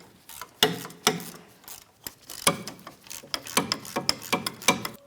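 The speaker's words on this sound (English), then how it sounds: "Once you have the first bolt loosened, continue on to all others." A hand ratchet loosens the rear backing plate mounting bolts on a 2007-2014 Ford Edge, with repeated rhythmic clicking strokes in uneven runs. Close, moderately loud metallic ratcheting, no talking.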